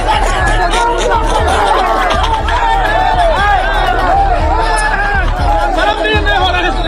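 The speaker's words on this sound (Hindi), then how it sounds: "चोर चोर के नारे लगाए।" An angry crowd chants "thief, thief" at BJP MLA Ramchandra Prasad while he canvasses for votes in Bihar. Dense, loud shouting voices overlap without pause, close and crowded.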